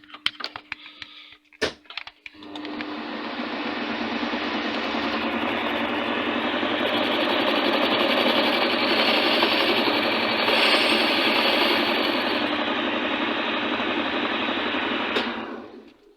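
A TV16 lathe cuts out a damaged bolt thread, running with a steady, loud whirring hum and cutting noise after a few clicks and knocks at the start, then stopping near the end.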